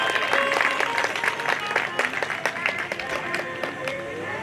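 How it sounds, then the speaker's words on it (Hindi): A crowd at a Ramayana devotional performance breaks into loud applause, dense clapping at first that thins into scattered claps, with a voice and music heard alongside. "एक बार अपने अपने आराध्य देवी देवता के नाम से जोरदार ताली बजा दीजिए आप।"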